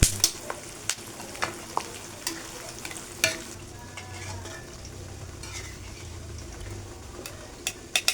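Peanuts fry in a pan with a steady close sizzle, broken by a series of sharp spatula stirs and clicks against the metal.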